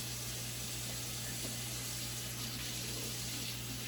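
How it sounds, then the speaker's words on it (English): Warm water running from a kitchen sink tap, a steady continuous hiss and rush with a low hum underneath, fairly close and unbroken throughout. "Take it over to the sink. Run some warm water."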